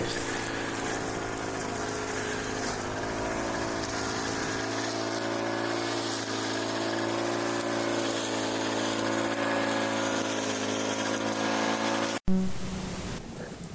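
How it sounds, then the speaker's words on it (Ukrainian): A grass trimmer fitted with a mulching blade mows autumn potato tops, giving a steady droning engine hum with a constant pitch that runs unbroken before cutting off sharply near the end. "Це ми мульчарувальним ножем спробуємо."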